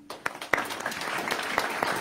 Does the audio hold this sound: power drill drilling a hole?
no